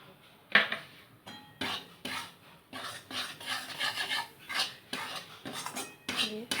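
A spoon stirring gram flour frying in ghee in a pan for laddu, producing irregular scraping and rubbing strokes with a sharp knock at the start, close and alone.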